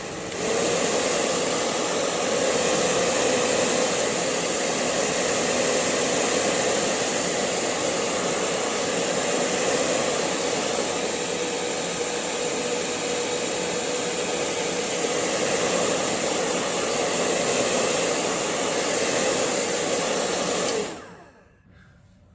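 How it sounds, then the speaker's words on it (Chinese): A hair dryer blows steadily and loudly up close while drying a Chinese ink painting of bamboo leaves, one unbroken whooshing roar that cuts off abruptly at the end. "好，我们现在吹干吹干。"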